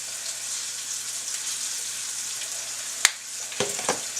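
Chuck roast browns in a pan with a steady, soft sizzle, then a sharp clack and a few scraping knocks of a utensil near the end, with no voices.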